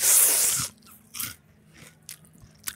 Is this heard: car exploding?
no